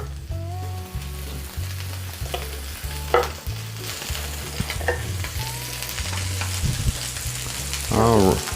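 Pork chops and broccoli frying in a pan for a stir fry, a steady close sizzle with occasional utensil clicks and a louder scrape near the end, over a low looping background tune.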